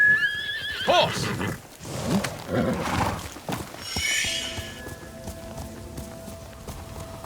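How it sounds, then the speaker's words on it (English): A horse whinnies loudly and snorts amid clattering hooves in the video game Ghost of Tsushima, followed by a sustained tonal drone; no talking. "Horse!"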